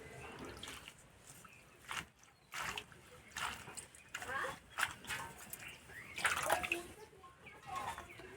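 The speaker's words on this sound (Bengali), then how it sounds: "এবার ধনে পাতাগুলো ভালো করে ধুয়ে নেব।" Fresh coriander leaves being washed in water make faint, irregular splashing and swishing sounds, with soft talking in the background.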